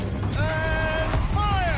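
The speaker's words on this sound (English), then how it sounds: "Rotate turret!" A mechanical turret rotating in Horizon Zero Dawn, a smooth whirring servo tone that glides in pitch, twice in quick succession, fairly loud and close over a dense background.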